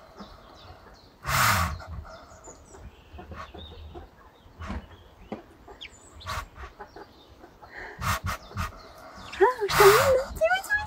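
Newly hatched Easter ducklings peep in a few short, high, wavering bursts, fairly soft and scattered among rustling handling noises, with people talking nearby.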